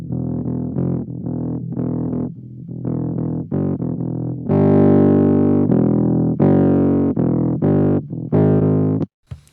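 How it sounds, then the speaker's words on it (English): Saturated, gritty bass notes played in a riff, loud and thick, with no compression, with a sudden stop at the end. "there's no compression, but it's the saturation"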